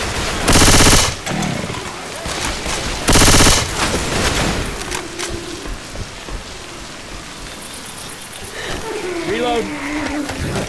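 Automatic weapon fire from the zombie shooter Left 4 Dead 2 opens with two loud bursts near the start, followed by scattered quieter shots and game effects beneath rainy ambience, while people talk over it.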